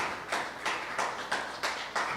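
Church congregation applauding during a worship service, a steady, fairly soft clatter of many hands with regular swells of louder clapping roughly every third of a second, heard from within the room.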